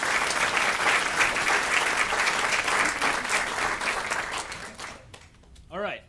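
Sustained crowd clapping fills a room at a diversity summit, thinning and fading out near the end before a voice begins speaking.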